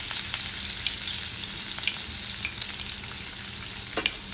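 Garlic and ginger fry in hot oil for a Schezwan chutney, making a dense, continuous close sizzle with small pops and a few sharp clicks of stirring.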